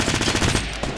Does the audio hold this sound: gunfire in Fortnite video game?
yes